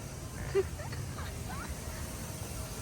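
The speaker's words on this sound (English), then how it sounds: "These birds are taking over the crocodile habitat." A few ducks quack faintly and intermittently over steady background rumble near a crocodile enclosure at a zoo in Florida.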